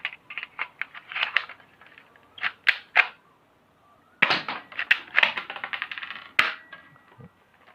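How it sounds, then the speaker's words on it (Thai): A Glock 19X shell-ejecting toy pistol has its slide racked and cycled, producing a rapid series of close plastic clacks and snaps in bursts. The bursts are separated by short pauses, with a brief rattle near the end and no speech. "เดี๋ยวเรามาลองคัดปอกดูรอบหนึ่งกันดีกว่า"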